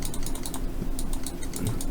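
Computer keyboard keys are pressed for a Ctrl+Tab shortcut in Hancom Office NEO, giving a quick run of crisp, close plastic clicks and taps without any speech.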